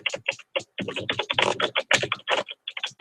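Close, quick keystrokes on a computer keyboard, clicking in rapid irregular bursts with short pauses.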